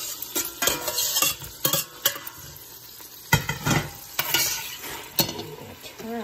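Potatoes sizzle in high-quality butter in a pan, with a steady frying hiss broken by repeated sharp scrapes and clinks of a utensil stirring them, no voices.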